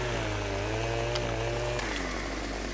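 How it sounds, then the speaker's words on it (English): A chainsaw cuts a tree branch in Farming Simulator 17, the engine droning loud and steady close up with a brief pitch shift midway. "grab the chainsaw. Pretty sure we should just be able to chop the branch just like that."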